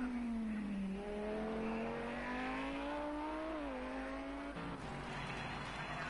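GT3 race cars lapping Spa-Francorchamps in Project CARS 2: a loud, close engine whine climbs steadily through the gears with layered harmonics, dips briefly on a shift, then carries on with other cars droning behind.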